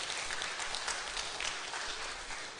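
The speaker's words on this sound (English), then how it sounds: "I think he deserves another round of applause." An audience at a book launch claps in steady, dense applause, a continuous patter of many hands at moderate volume with no voices over it.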